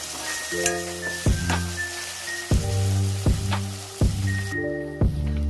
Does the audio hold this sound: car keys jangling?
no